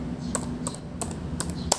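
Keys tapped on a computer keyboard, about five distinct clicks in an uneven rhythm over a low steady background hum, close and clear.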